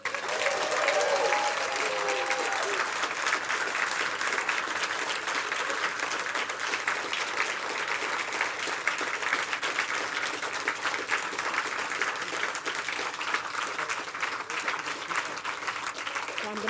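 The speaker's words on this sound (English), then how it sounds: "Please join me in welcoming Alice and Frank with a well-deserved round of applause." Audience applause at a literary award winner announcement, sustained dense clapping from a large crowd filling the room at a steady level, with faint voices early on.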